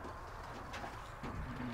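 Pigeons cooing inside a pigeon loft used for bird-dog training: soft, low, continuous coos, fairly close, with a slightly stronger burst near the end and no talking.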